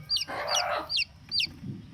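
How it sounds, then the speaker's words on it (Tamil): A native country hen clucks repeatedly in short, close bursts while brooding as her chicks hatch, with some low background noise between the calls. "கோழி முட்டையிலேருந்து வர்றதை, கோழி குஞ்சு பொரிச்சு வெளியில் வர்றதை நீங்களே பார்க்க முடியும்."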